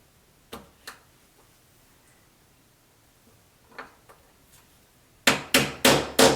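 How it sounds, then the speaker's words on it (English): A bearing pressed into an aluminium axle housing for a Tamiya Clodbuster RC truck: a few faint taps early on, then four loud, sharp knocks in quick succession at the end, each with a short ringing tail. "So once you do that, you just pop the bearing in."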